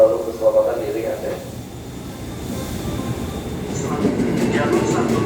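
Rumble and rattle of a commuter electric train (KRL) pulling into a station platform on line 1 at Nangge, a steady low roar building toward the end with faint voices in the background.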